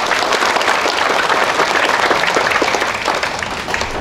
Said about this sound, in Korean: 박수로 환영해주시면 바랍니다